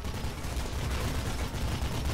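Sustained, dense gunfire in the video game Mirror's Edge, a continuous rattle of rapid shots forming a loud, unbroken barrage with no pauses.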